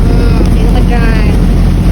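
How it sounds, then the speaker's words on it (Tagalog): Strong sea wind at Boracay buffets the microphone in a loud, continuous rumbling roar, with a faint voice underneath. "Ang lakas ng hangin dito."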